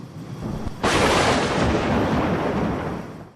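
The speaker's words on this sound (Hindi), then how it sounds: "बादल गरज और चमक रहे थे, बिजलियां कड़क रही थी और मौसलाधार बारिश हो रही थी।" A sudden loud thunderclap bursts out of steady heavy rain and rolls on as a sustained, booming rumble that slowly fades, close and powerful, with no voices.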